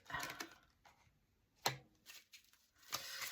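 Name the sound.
tarot cards being handled, one card flipping over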